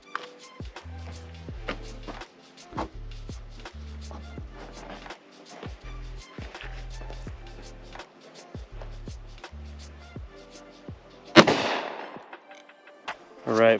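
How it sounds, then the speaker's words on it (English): A Smith & Wesson M&P Shield .45 ACP pistol fires a hollow-point round at a Level 4 armor plate: one sharp, loud shot near the end, after a stretch of light clicks and handling noise. "here we got Smith & Wesson M&P Shield. This is gonna be 45 ACP, and we're gonna start with a hollow point"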